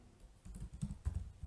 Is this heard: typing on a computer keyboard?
yes